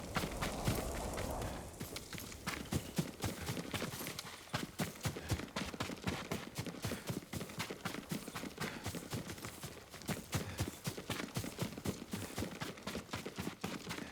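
Rapid, steady hoofbeats of a galloping horse in the video game Ghost of Tsushima pound continuously for a long stretch, loud and close, with a brief rustling noise at the start.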